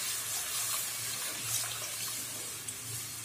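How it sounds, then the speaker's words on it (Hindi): Water poured a little at a time into a pan of fried spices while making Sindhi kadhi, a steady close hiss of running and splashing liquid with no talking. "अब इसके अंदर हम पानी डाल देंगे।"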